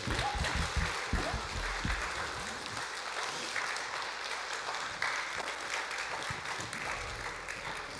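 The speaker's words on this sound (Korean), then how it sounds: "박수." A Korean church congregation applauds during a Sunday worship service, a fairly faint, steady spread of clapping heard from a distance, louder at the start, with some low rumbling beneath.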